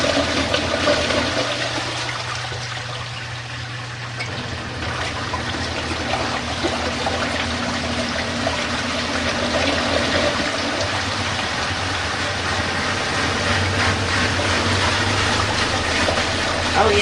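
Water drains from an RV washing machine's drain hose in a continuous, steady rushing flow with a low hum underneath, close and fairly loud throughout.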